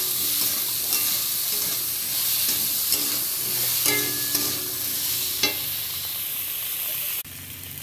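Potatoes and chopped onion with salt frying in a pan while being stirred, a steady close sizzle broken by periodic scraping strokes of the spoon, then cutting off abruptly near the end.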